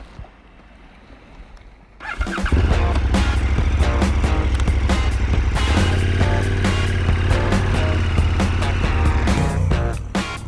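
A 2017 KTM 1290 Super Adventure S motorcycle starts off after a quiet moment, its engine rising into a loud, steady riding drone heard close for the rest of the stretch.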